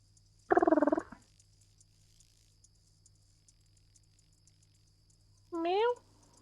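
A pet cat gives two short, close purring trills a few seconds apart, the first rattling and wavering and the second rising in pitch, with near silence and a faint hum between them.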